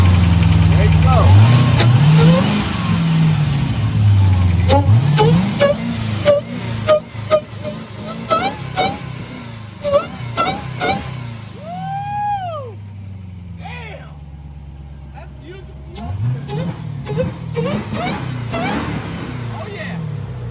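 An SRT Durango engine fitted with a JLT cold air intake revs in sharp bursts, deep blips rising and falling close by, with people talking and cheering between the revs.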